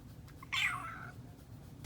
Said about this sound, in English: a cat's meow